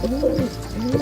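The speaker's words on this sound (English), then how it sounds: "Correct, it's pigeon." A pigeon coos twice in soft, low, rolling calls, each a short throaty rise and fall, close and clear over quiet background.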